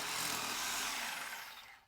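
A 1.5 inch pool drain line is cut during a sand filter installation. The cutting makes a loud, continuous, close rasp that holds steady before tapering off at the end.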